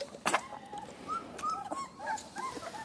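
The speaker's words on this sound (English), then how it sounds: "Right, first pup up for a worm dose." A tiny young puppy gives high, thin whimpers and short yips in quick succession while getting a worm dose by syringe on a sheep farm. The cries are close and there is no talk.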